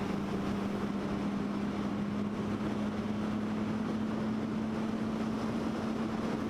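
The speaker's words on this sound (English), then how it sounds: "So the bike I'm riding is a 2016 Triumph Speed Triple." Steady engine drone from a 2016 Triumph Speed Triple motorcycle cruising on roads in South Wales near the Brecon Beacons, a sustained even tone under loud continuous wind noise.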